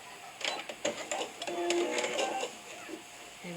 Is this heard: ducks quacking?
no